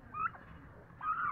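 Turkeys gobble in two loud, rattling bursts about a second apart, close by, with no talking, in a setting where birds feed on seedless sugar apple (atis) fruit.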